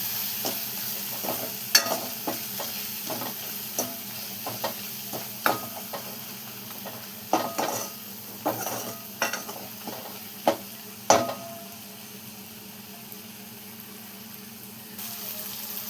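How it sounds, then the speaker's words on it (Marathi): A spoon stirs sambar masala into simmering sambar in a pot, giving a quiet series of scraping strokes and soft clinks at uneven intervals over a faint bubbling background, with no talking. "सांबर मसाला टाकल्याच्या नंतर आपण असं मिक्स करून घ्यायचं"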